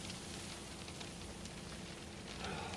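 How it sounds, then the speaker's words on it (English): Sleet or hail falling at Petrified Forest, Arizona, a steady soft hiss of small pellets pattering on surfaces, faint and continuous with no voices. "It's snowing. Sleet. I guess it's sleet or hail."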